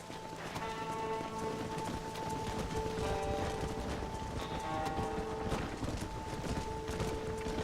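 Steady heavy rain pours throughout while horse hooves clop along underneath during a storm in Red Dead Redemption, with faint mechanical tones in the mix.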